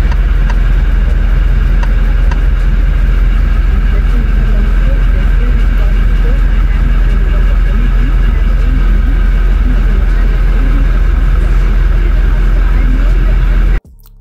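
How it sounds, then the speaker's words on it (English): A 2023 Toyota Land Cruiser 76 LX V8 idles steadily up close, a loud continuous engine drone with a deep low rumble that holds unchanged for the whole stretch before cutting off abruptly at the end. "just listen to that engine as well."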